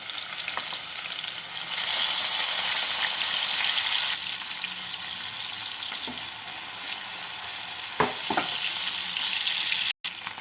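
Steady sizzling and crackling of dried fish frying in a pan with onions and turmeric, louder for a couple of seconds early on, with occasional stirring clinks.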